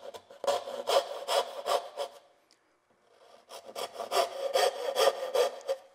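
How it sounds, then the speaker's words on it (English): A hand saw cuts dovetails in a wooden drawer board clamped in a bench, with a close, loud run of rhythmic rasping strokes, a pause of about a second, then another steady series of strokes. "Put my thumb there, put the saw on, start on a backstroke, stop at the marking gauge line."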